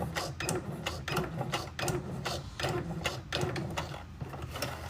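Close up, a sewing machine back stitches at the end of a seam with a fast, even mechanical rattle that runs steadily throughout.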